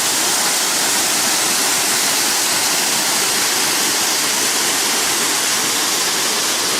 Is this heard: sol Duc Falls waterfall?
yes